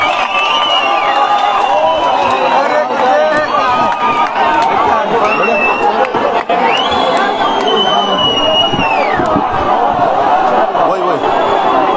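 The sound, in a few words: large crowd of young protesters gathered at a rally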